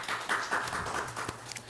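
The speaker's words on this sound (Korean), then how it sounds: "여러분 큰 박수로 맞아 주시기 바랍니다" A debate-event audience gives a short round of applause to welcome a presenter to the stage, with moderately distant, scattered clapping and a few sharper individual claps.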